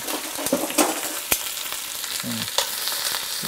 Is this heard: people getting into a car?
no